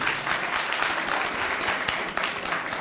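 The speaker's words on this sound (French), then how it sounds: "Donc il faut les applaudir encore." Crowd applause for Cabis School at a school quiz quarter-final in Dakar, dense continuous clapping from many hands, loud and close throughout with no talk over it.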